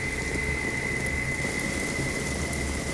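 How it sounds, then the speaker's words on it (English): Heavy rainstorm pouring down on a camp in the Smoky Mountains, a dense, steady hiss of downpour with a low rumble of thunder underneath, constant and loud with no voices. "This was by far the worst rainstorm that I had ever camped in."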